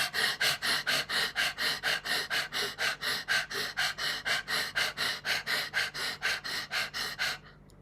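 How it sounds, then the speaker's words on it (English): Rapid rhythmic panting breaths from the Swan Pranayam yoga breathing exercise, done with the tongue out like a panting dog, about two dozen sharp even huffs in steady succession, close and clear, stopping abruptly near the end. "Do the Swan Pranayam panting dog."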